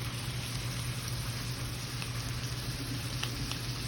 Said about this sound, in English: I hear it sizzling over here.